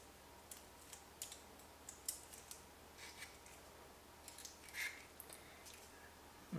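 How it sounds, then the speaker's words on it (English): Folded sandpaper pulled along enamelled copper wire for a Tesla coil gives faint, short, dry scraping strokes in an irregular rhythm, close up and quiet, with no talking. "I've got a little square of sandpaper, and I'm just going to fold it in half and put it over the wire and just fold it and pull."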